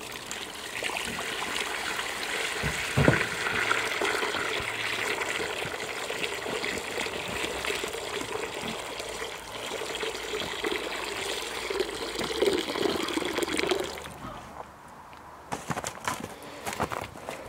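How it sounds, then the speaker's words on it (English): Warm water pours steadily from a container into a chicken's dish outdoors at a winter coop, a continuous trickling splash that runs for most of the clip and cuts off near the end. "Let's get some nice warm water out here for them."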